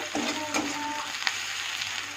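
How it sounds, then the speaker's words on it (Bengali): Okra (bhindi) fries in a pan, giving a short, even hiss of sizzling oil with a couple of faint scrapes. "এদিকে একটু ভিন্ডি ভাজা চাপিয়ে দিলাম"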